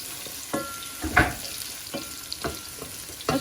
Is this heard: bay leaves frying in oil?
yes